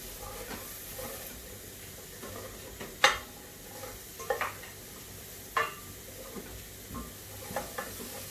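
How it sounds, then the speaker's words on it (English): Mince and onions browning in a pan, a steady soft sizzle with occasional sharp scrapes and clinks of a utensil stirring against the pan, close and moderately quiet. "So we'll just keep that stirring around for a minute until it's just slightly browning off."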